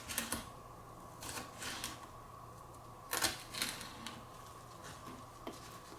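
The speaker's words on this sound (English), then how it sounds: "I'm just cutting down like this, getting nice little minced pieces" Knife finely mincing a jalapeno on a cutting board: sparse, faint taps of the blade against the board come in small clusters over a steady low hum.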